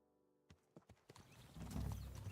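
Horse hooves clip-clop in a quick irregular gait in the medieval video game Kingdom Come Deliverance 2, rising into a louder rush of movement.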